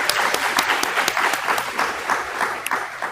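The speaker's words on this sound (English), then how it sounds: "Let's give him another round of applause" An audience at a live-streamed presentation gives a round of applause, a dense, fairly loud clatter of many hands clapping at once, steady for the whole stretch.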